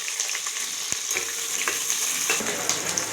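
Onions and green chilies fry in oil for chicken kurma, a continuous close sizzle and hiss with occasional soft stirring taps.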